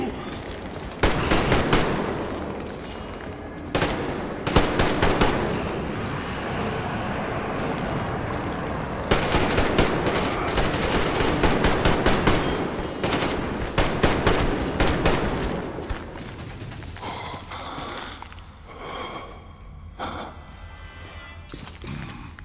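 Heavy automatic gunfire in Metro Exodus, with repeated loud bursts and sustained rattling volleys against mutants over many seconds, broken by short pauses and ending in scattered shots, with a faint voice now and then.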